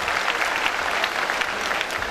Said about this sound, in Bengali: জোরে একটা করতালি দিতে চাই।